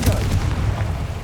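The Confringo blasting spell in the video game Hogwarts Legacy lands as a short, heavy booming burst with a low rumbling body, lasting about a second.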